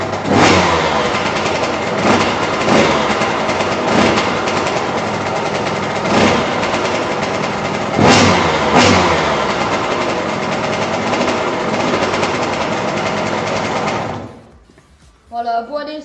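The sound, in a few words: 65 SX dirt bike engine revving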